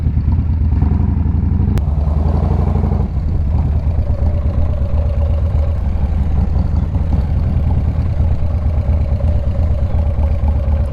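Motorcycle engine idling on a ride along the Pacific Coast Highway toward Santa Monica, a loud, steady low rumble with a continuous mechanical clatter, close and alone, no talking.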